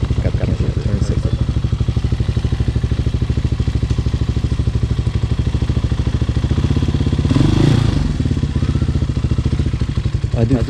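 A Hawk 250cc street-legal dirt bike engine runs close by with a steady, loud, pulsing idle, swelling briefly around the eighth second before settling back, with occasional slight backfire-like stutters.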